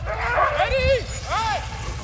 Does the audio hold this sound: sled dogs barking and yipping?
yes